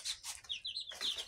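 Chickens clucking and calling in short bursts during feeding, close by and fairly loud.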